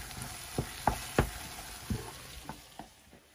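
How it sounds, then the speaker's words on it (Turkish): Tomato paste frying in a pan for stuffed grape leaves, a soft sizzle under a series of distinct spoon taps and scrapes that come irregularly about every half second, close and quiet. "salçamızı da kavurduk bu şekilde"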